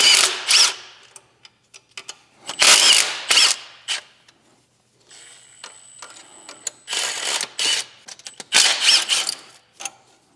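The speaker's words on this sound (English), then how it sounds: "Unbolt clutch slave." A ratchet working loose the bolts on a car's clutch slave cylinder during gearbox removal, giving several bursts of quick clicking separated by short pauses, close up with no talking.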